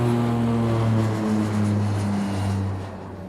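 Steady droning aircraft engine with a low, throbbing propeller hum, loud and close, fading slightly toward the end.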